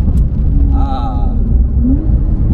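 A Porsche 992 Carrera 4S with a Stage 2 tune and exhaust burbles and rumbles on deceleration, a steady low drone close up, with a few brief whistling tones above it.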